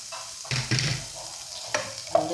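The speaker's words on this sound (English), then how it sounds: "Medium low heat, I'm going to add in some butter." Butter in a pan over medium-low heat gives off a soft sizzle with a few gentle scraping stirs and clinks, quiet and close.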